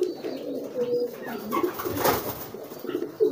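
Soft cooing of a pigeon close by, a young homing pigeon being trained, low murmuring calls repeating over a faint rustling background.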